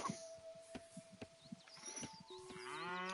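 A cow moos in the Age of Mythology video game, a low drawn-out bellow repeated in short pulses, quiet and alone, with game interface chimes and tones joining near the end.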